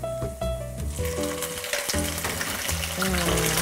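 Sardines sizzle and crackle in a hot pan, a steady frying hiss with occasional clatter of utensils, close and continuous with no talk.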